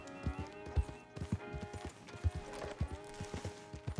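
Horse hooves clip-clop steadily on the ground in Red Dead Redemption 2, a quick, even gait of distinct close thuds that keeps going without a break.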